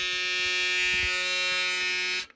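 A Braun S8 electric razor runs alone with a steady, high-pitched, fast buzzing hum for about two seconds before cutting off abruptly.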